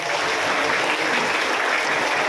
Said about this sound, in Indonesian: kita ucapkan terima kasih untuk Pak Polisi dan Pak Tentara, tepuk tangan